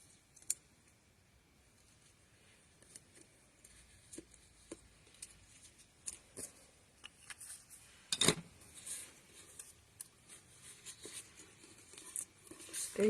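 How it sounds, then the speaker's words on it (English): Paper card stock being folded for a Stampin' Up! fun fold card, giving faint, scattered creases and light taps, with one sharper rustle midway and brief handling rustles toward the end, no speech. "Just fold the one side in first."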